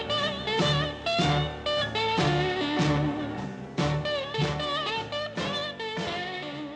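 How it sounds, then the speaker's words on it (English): Slide guitar played with a glass, ceramic or metal slide, gliding between pitches in a rhythmic pattern over a backing of steady strummed chords and accents, loud and up front with no voices. "mostly associated with the style of guitar known as slide guitar."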